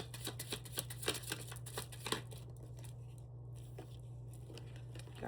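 A deck of oracle cards is shuffled by hand in quick riffling bursts for about two seconds, then falls into quiet soft handling over a low constant hum.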